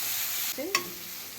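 Masala for a mutton gravy sautéing in a pan, giving a loud, dense sizzle that suddenly drops away, followed by a brief scrape of stirring and a quieter hiss.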